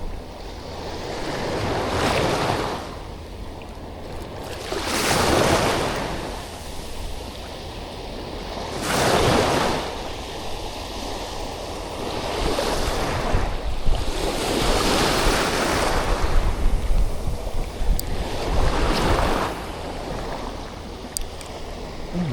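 Surf rolling in at the seashore, with distinct waves cresting and breaking every few seconds in a slow, even rhythm, each a soft rushing swell that fades back into a constant background wash, neither loud nor faint, with light wind noise.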